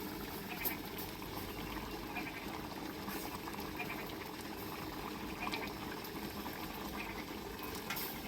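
Curry simmering in a pot, a faint, steady bubbling and gentle liquid burble heard up close with no voices over it.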